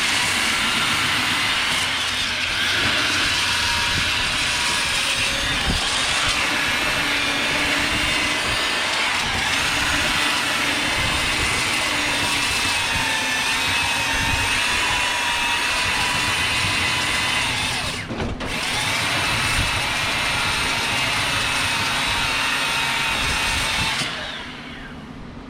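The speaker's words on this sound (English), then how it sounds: "The sander grabs it pretty good." An electric sander works on a fabricated metal anvil stand, a loud and steady high-pitched whir held for about twenty-five seconds with one brief dip, then trailing off at the end. No voices are heard.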